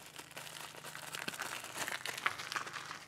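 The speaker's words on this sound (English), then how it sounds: "peel the plastic off" Plastic wrap crinkles and tears as it is peeled off a new oil filter during a 50-hour service on a Kubota B2601 tractor, with close, soft rustling bursts and a few sharper crackles.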